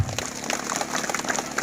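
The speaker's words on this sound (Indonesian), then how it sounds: "Tepuk tangan buat kita semua." Applause from a gathered crowd at an Indonesian community organisation meeting, a dense, steady patter of many hands clapping at close range for under two seconds.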